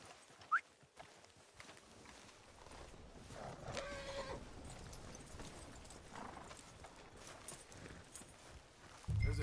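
Horse hooves clip-clop at a walking pace in the video game Red Dead Redemption 2, fairly soft and steady, with a faint whinny early on and light ambient background.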